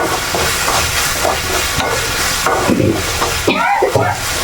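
Tomatoes sizzle in a hot pan in a home kitchen for a spicy tomato curry, giving off a steady loud hiss with scraping stirs and a brief voice near the end.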